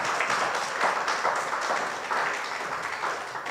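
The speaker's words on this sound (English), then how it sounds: "Please clap for them." An audience at a 25th anniversary celebration for a Ugandan children's charity applauds, a thick, continuous burst of many hands clapping that holds steady, then eases slightly toward the end.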